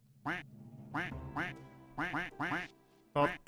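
A stream alert sound effect plays a series of loud, nasal duck quacks in short bursts, some in quick pairs, with brief gaps between them.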